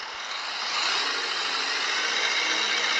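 Bus engine revving in the Proton Bus Simulator mobile game, a steady broadband roar that rises slightly and then holds constant for three seconds, alone.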